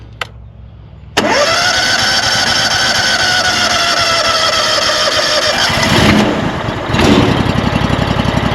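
A sawmill engine started with the choke on roars to life after a sharp start, then runs loud and steady at high idle, wavering briefly near the end.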